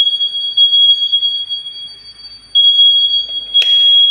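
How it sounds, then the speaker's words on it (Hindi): A Honeywell fire alarm panel hooter sounds a continuous piercing high beep, close and loud, with a few faint clicks and a brief rustle near the end. "अब पैनल से हमको हूटर आवाज़ बंद करना है अलार्म का"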